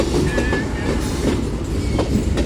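Union Pacific mixed freight train with sodium hydroxide tank cars rolling past Central Avenue, a loud continuous close rumble with rhythmic clickety-clack of wheels on rail joints and a faint squeal.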